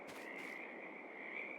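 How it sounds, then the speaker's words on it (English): Frogs croak and crickets chirp in the pond ambience of the Farming Simulator video game, a dense, steady, high trilling chorus that continues without a break; no talking. "Frogs and the crickets."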